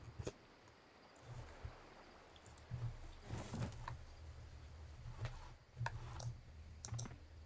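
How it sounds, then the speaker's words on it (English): Soft, irregular clicks of someone typing on a computer keyboard in a nearby room, faint and scattered over low background hum during an online game session. "What you probably heard was my wife on her keyboard."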